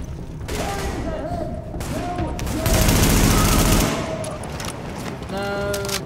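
Pistol gunfire in The Division 2, a run of loud close shots bunched into a rapid burst in the middle amid game sound effects, with someone talking at times.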